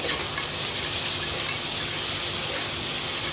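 Tomatoes drop into onions frying in a pan and sizzle loudly and steadily, a close, dense hiss that carries on without a break.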